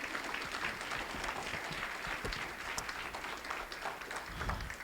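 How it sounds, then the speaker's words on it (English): A roomful of people applauds, steady clapping from a crowd at moderate distance, sustained throughout. "So if we could give a hand clap to Ms. Coleman one more time."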